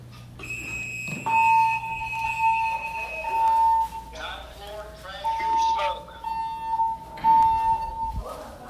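A building fire alarm sounds during a smoke detector test on level 9 by the north trash chute: a steady electronic tone that pulses on and off repeatedly, with a voice speaking between the tones.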